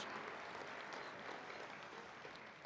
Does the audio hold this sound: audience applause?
yes